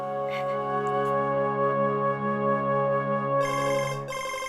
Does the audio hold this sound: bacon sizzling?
no